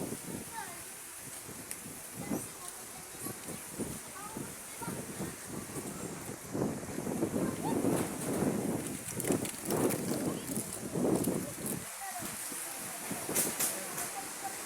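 Strong gusting wind ahead of a thunderstorm behind Villa Sofia in Barangay 108, Tagporo, a steady loud rushing roar with swelling gusts throughout, and a voice talking in spots.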